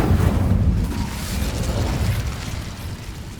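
Incendio fire spell cast in Hogwarts Legacy on PC, a deep whooshing burst that fades into a low rumbling roar, loud and close, with no talk over it.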